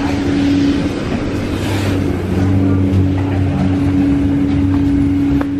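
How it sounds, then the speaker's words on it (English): Proterra electric bus in Duluth in December, giving a steady motor whine and tonal hum with road rumble as it drives, fairly loud and continuous with no speech. "These buses do sound cool."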